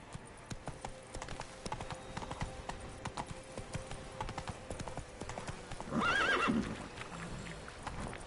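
A horse in the video game Witcher 3 trots with rhythmic clip-clop hoofbeats, then gives a loud neigh near the end as the hooves carry on steadily.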